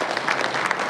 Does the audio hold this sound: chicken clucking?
no